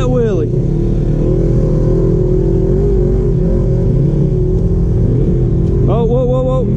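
Off-road vehicle engine revving hard on a rocky trail during a wheelie attempt, a loud sustained drone with rising and falling pitch that climbs sharply again near the end, heard close with voices over it.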